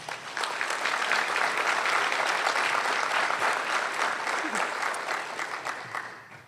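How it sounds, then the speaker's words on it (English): Sustained applause from an audience at a scholars' induction ceremony, a dense steady wash of clapping that holds for several seconds and then thins out toward the end. "So give yourselves a round of applause."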